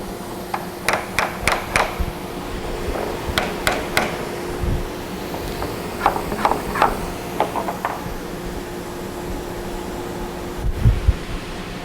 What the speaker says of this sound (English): Pressing the clicker turns on the vacuum so I can make sure the blank is held firmly.